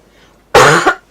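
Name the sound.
cough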